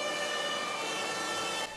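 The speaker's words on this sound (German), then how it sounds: "Diesen Ton kennt jeder, das Martinshorn der Feuerwehr." A fire brigade siren (Martinshorn) sounds loud and continuous with steady tones throughout, then drops slightly in level near the end.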